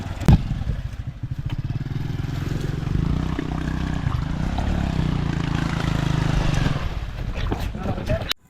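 A rented motorbike rides over a badly broken road, its engine a steady loud drone with rattling throughout, briefly knocked by a jolt near the start.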